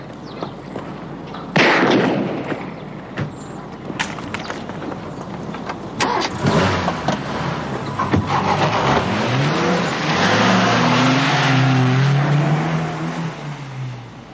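A green Volvo car drives off: a door thump and scattered clatter, then the engine revs up and accelerates away with a rising, sweeping tone that stays fairly loud to the end.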